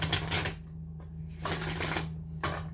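A deck of tarot cards printed on smooth cardstock is riffled close up in three quick bursts of crisp flapping with brief pauses between them.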